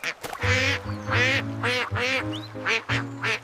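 A series of loud, nasal quacks repeats in quick succession, about six or seven calls, close and clear.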